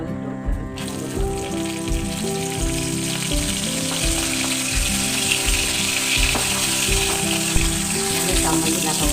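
Dried red chillies fry in hot oil in a pan for a Kerala-style chutney, giving a continuous bright sizzle with light stirring clatter, backed throughout by a steady, rhythmic musical accompaniment.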